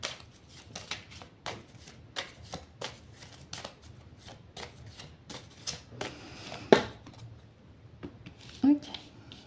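Oracle cards being shuffled by hand, a run of quick crisp riffles and slaps at close range, fairly quiet, with a couple of brief louder knocks near the end.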